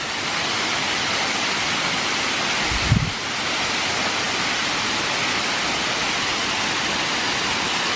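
Steady, broad rushing roar of a large waterfall at Bethel Springs Nature Preserve, Alabama, filling the whole stretch, with a brief low thump near the middle.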